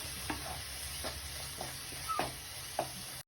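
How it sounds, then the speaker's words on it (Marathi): Ginger garlic paste stirred and fried in a pan for matar paneer: quiet low sizzle with a few spaced spatula scrapes and taps at an unhurried rhythm, ending in a sudden cut, no speech. "आता आपण आल्या लसणाची पेस्ट टाकणार आहे आता आपण हे मिक्स करूया"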